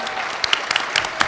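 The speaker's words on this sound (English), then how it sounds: "Give them a big round of applause." Brief audience applause for panelists at a panel discussion, a short burst of scattered clapping with a few sharper individual claps standing out over a soft, even wash.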